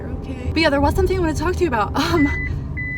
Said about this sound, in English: my car is beeping at me